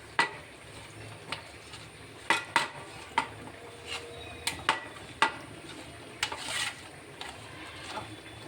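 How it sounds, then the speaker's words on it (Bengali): Small mourala fish being hand-mixed with salt and turmeric in a metal bowl, giving soft clinks and sharp scrapes of metal at irregular intervals over a low rustle. "লবণ হলুদ দিয়ে ভালো করে মাখিয়ে নিচ্ছি"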